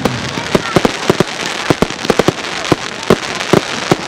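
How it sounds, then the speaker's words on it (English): Fireworks at a public display on playing fields in Thornbury, heard as a steady series of sharp, loud pops and crackles scattered irregularly across several seconds over a background of crowd murmur. "Those are not bangs, those are pops."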